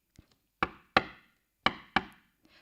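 Knocking on a door for a read-aloud story, a faint double tap then four firm, close knocks in two pairs, each ringing briefly, with a soft tap at the end and no talking.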